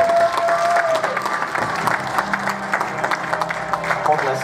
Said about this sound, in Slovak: Potlesk trvá. Potlesk stále trvá.